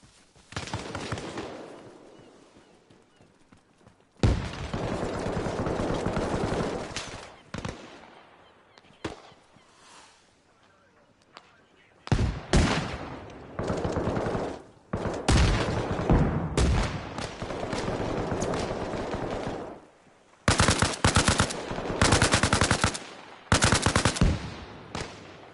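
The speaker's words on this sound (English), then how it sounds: "I hear a lot of gunfire coming from..." Heavy gunfire from a battle in the video game Arma Reforger on PS5, with repeated bursts of automatic fire and single shots, loud and close, separated by quieter gaps.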